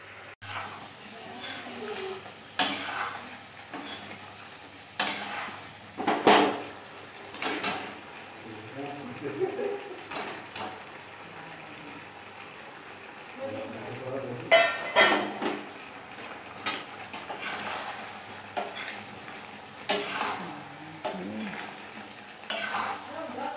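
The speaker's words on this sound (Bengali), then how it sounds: "এই আমাদের মটন রান্না চলছে" Pots and utensils clatter while mutton cooks in a home kitchen, with intermittent metallic scraping and stirring knocks over a soft sizzle, and a voice speaking at times.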